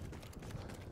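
Horse hooves clip-clop in a steady rhythm over ground in the Battlefield 1 video game, close and fairly loud, with no speech over them.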